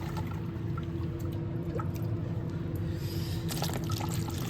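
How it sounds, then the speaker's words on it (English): Tumbled stones swished and rinsed in a bucket of water to wash off grit, a steady continuous sloshing and trickling wash with a low background hum. "now we go ahead and we really rinse these good, and we remove all of the grit"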